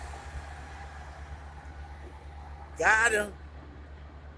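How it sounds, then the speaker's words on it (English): An Amtrak high-speed train on the Northeast Corridor passes as a steady low rumble and hum throughout, with a person briefly speaking near the end. "That's the Amtrak high speed rail."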